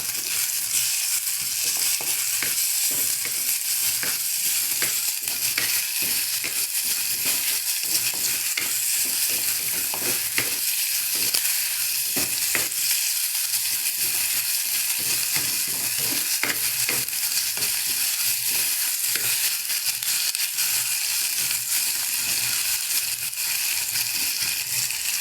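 Potatoes fry in oil while being stirred, a constant bright sizzle broken by frequent scraping and tapping strokes of the spoon against the pan, close and busy throughout with no voices.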